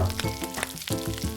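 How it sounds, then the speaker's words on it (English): Bacon frying in hot oil in a home kitchen gives a steady, close sizzle with crackling bursts throughout, no voices. "We get that oil going and it's really sizzling"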